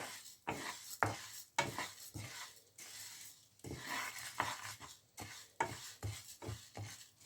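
Washed pearl millet being dry roasted in a pan over low heat, with a spatula repeatedly stirring and scraping the grains in a steady rhythm of close, dry scratches and light clinks.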